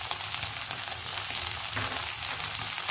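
Okra and mutton frying in a pan for bhindi gosht, a continuous close crackling sizzle that stays fairly even throughout, with no talking.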